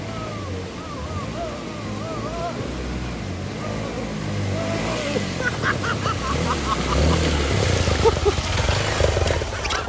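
A vehicle engine straining and revving up a steep off-road track near Anakulam, Munnar, rising in intensity toward the end, with someone talking over it.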